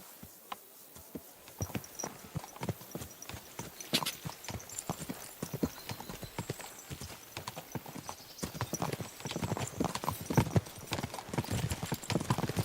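Horse hooves clip-clop in Kingdom Come: Deliverance II, an irregular stream of crisp, close steps at a walking pace that grows denser and louder toward the end.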